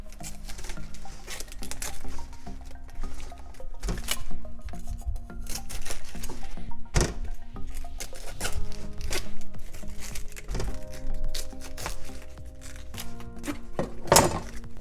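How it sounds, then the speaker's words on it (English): A knife cuts through cabbage on a cutting board in a kitchen, giving repeated sharp chops and crunches among scraping and rubbing, close and fairly loud, with no talking. "So to cut your cabbage, you want to cut this part first."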